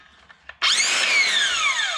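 A Makita cordless circular saw starts with a few faint clicks, then spins up suddenly into a loud, high whine that slowly drops in pitch as the blade runs.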